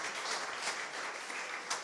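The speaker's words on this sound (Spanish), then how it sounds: "Si crees en milagros, dale un aplauso fuerte al Señor, vamos." Church congregation applauding together after a call to praise, a dense, steady wash of clapping that runs the whole short stretch at moderate level with no voices on top.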